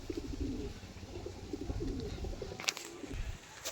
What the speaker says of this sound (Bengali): সব গিরিবাজ পায়রা আমাদের এই সাইডে